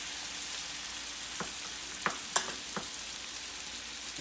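Onions simmer in sweet wine and butter over low heat, a soft steady hiss with a few faint clicks and taps of a utensil against the pan.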